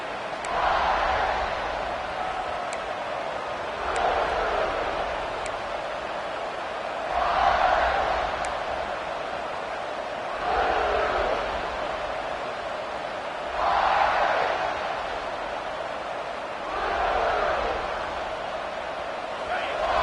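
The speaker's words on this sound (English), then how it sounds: "Listen to the crowd energy here in the early going." A large stadium crowd at a football game roars continuously, its noise swelling in repeated waves every few seconds, with no one speaking close by.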